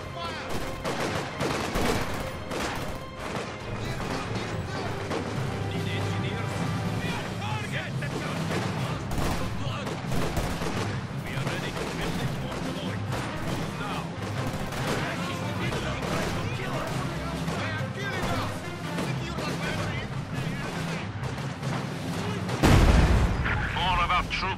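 Dense, continuous gunfire and artillery rumble through a Soviet campaign battle in the Company of Heroes 2 video game, with booms and machine-gun bursts and a heavier blast near the end. Voices are faintly mixed in.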